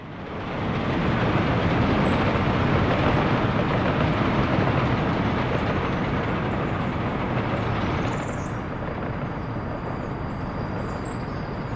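Trains rolling on rails in the city-building game Workers & Resources: Soviet Republic, a steady, loud rumbling roar that holds for the whole stretch and eases slightly near the end.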